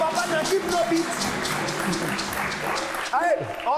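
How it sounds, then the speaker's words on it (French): Audience applause on a French-language Sunday TV show set, a steady wash of clapping lasting a few seconds, with some voices and brief chirpy sounds over it near the end. "Merci, on applaudit."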